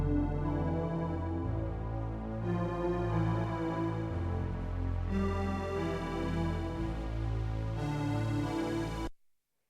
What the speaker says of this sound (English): I made the Dreams Are Real pad patch from my free Retro Serum Presets Pack